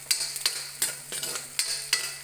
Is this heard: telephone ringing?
no